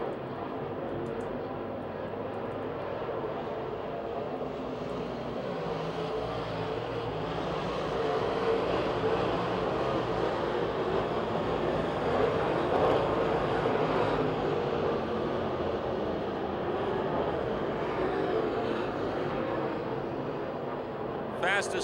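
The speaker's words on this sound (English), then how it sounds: "Burgoon trying to take 3rd away from Mike Johnson." Race cars lap Pennsylvania Motor Speedway near Pittsburgh, a continuous distant engine drone that swells slightly midway as the field passes, under an announcer's commentary.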